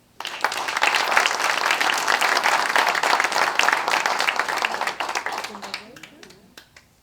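Loud, dense audience applause at a conference honoring a laureate of the Sephardic culture prize, starting abruptly, sustained for about five seconds, then tapering to scattered claps.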